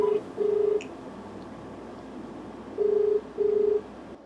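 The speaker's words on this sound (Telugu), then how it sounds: "మీ అనుమతితో నేను శ్వేతకి ఒకసారి ఫోన్ కలుపుతాను." Telephone keypad tones sound as a call is placed from a TV talk-show studio: two clean, steady beeps near the start and two more toward the end, with faint room hiss between them.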